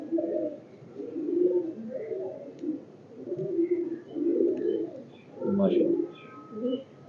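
Several pigeons coo in soft, repeated throaty bursts at close range, with a few faint chirps scattered between the rolling calls.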